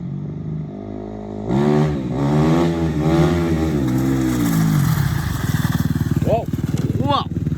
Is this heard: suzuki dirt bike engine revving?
yes